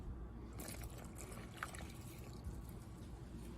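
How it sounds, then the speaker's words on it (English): One cup of water is poured into flour mixed with salt to make dough for sambusa wrappers: a soft, faint liquid trickle and splash over steady background hiss, with no talking. "Let's mix and pour the water. Just 1 cup of water."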